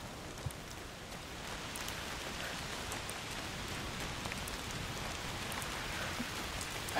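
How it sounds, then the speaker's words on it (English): Pouring rain in the video game A Plague Tale: Requiem, a dense steady hiss of downpour that continues evenly for several seconds without speech. "It's pouring down rain."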